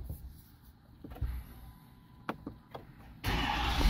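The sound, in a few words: 2023 Ford F350 diesel truck engine running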